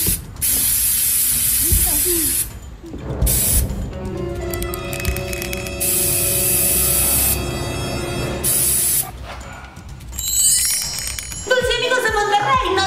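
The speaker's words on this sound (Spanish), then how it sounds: "spray es anti-zombies, hay que echárselo." An aerosol can labelled as anti-zombie spray hisses in several long, close bursts during a playful zombie skit, with tonal background sounds and brief pauses between sprays.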